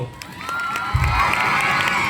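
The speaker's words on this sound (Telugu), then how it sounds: "పెద్ద చప్పట్లు" A school crowd at a farewell function bursts into cheering and shouting, children's voices loud and close for a couple of seconds.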